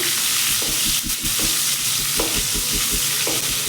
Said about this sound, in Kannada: ಎಣ್ಣೆ ಕಾದಿದೆ ಈರುಳ್ಳಿ ಹಾಕೋತಾ ಇದ್ದೀನಿ